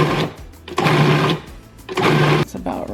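A food processor pulses a mixture of chicken, panko and soy sauce in short motor bursts, with a loud whirring about two seconds apart and quieter pauses between them.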